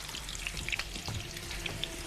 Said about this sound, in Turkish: önce patatesleri kızartacağım. Şimdi. Böyle çok az bir yağda.